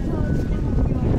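Strong wind buffeting the microphone on an Argentine beach at Mar del Plata by a rough sea, a loud, steady low roar with no break.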